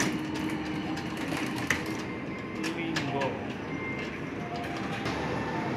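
A train pulls into Probolinggo railway station in Indonesia with a continuous low rumble and rattling of the carriages, while faint voices can be heard underneath.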